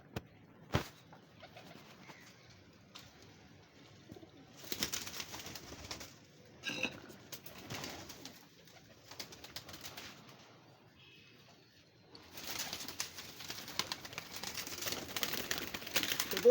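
Pigeons kept by a pigeon fancier cooing outdoors, soft and intermittent, with bursts of rustling and wing flaps; faint throughout, with no talking.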